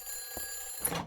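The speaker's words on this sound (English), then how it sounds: "I am not picking up that phone." A telephone rings once in Silent Hill 3 with a short electronic trill near the end, set over a steady tonal hum from the game's ambience.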